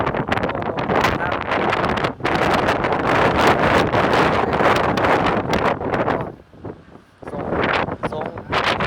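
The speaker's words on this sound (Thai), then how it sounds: "แรงมาก" Strong storm winds of Typhoon Megi buffet the microphone in loud, continuous roaring gusts with a brief lull, while someone talks throughout.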